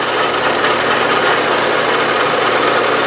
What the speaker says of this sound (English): the cross feed on the milling machine